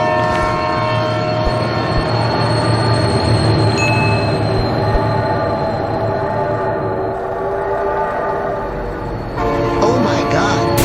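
A train rolls past in BeamNG.drive, loud and close, with rumbling wheels, a sustained horn blast and screeching metallic tones throughout, easing briefly before a sharp final burst.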